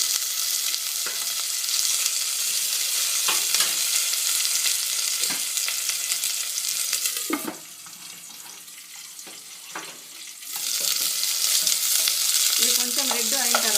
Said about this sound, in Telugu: మళ్ళీ బౌల్ పెట్టి ఒక ఉల్లిగడ్డ కొంచెం నూనెలో ఫ్రై చేసేసుకోవాలి